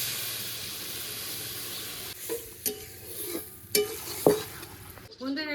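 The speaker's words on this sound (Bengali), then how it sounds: "আলুগুলো দিয়ে মশলার সঙ্গে খুব ভালো করে একটু কষিয়ে নেব" Pre-fried potatoes are stirred into a sizzling spice masala in a pan for a fish roe curry. Quiet frying hiss runs under several distinct spatula scrapes and strokes that come at an irregular pace.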